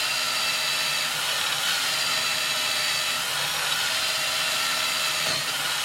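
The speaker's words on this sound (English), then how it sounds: "Tighten it up a little bit. Let's go drilling again." A drill in a machine bores through a Browning Auto-5 shotgun part in a gun shop, giving a steady, loud, continuous grinding whir with no pauses.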